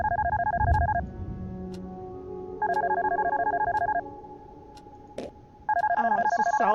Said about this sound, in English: Oh, it's a cell phone.